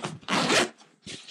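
A zipper is pulled in a few quick, close rasping strokes, one long zip followed by shorter tugs.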